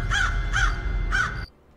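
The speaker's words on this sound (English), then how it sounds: "Creepy birds." Creepy crows caw in the Haunted Hotel video game, three loud harsh caws spaced evenly apart, then a sudden drop to near silence.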